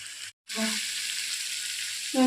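Spice masala sizzles while being sautéed for a fish-head and potol curry, a soft steady frying hiss that cuts out for a moment and then resumes, rising slightly at the end.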